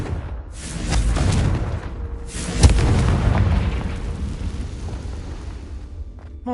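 In the Hogwarts Legacy video game, a Confringo blasting spell goes off: deep booming explosions, with a rumbling blast, a sharper, heavier hit a moment later, then a long rolling tail that fades slowly.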